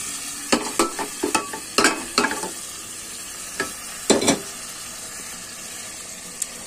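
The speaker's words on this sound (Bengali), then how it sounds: "এবার এই প্রেশার কুকারে সিটি দেওয়া মাংসটা ঢেলে দিলাম" A spoon scrapes and clatters against a pot of beef in a run of quick stirring strokes, then a few slower ones, with a faint simmer underneath.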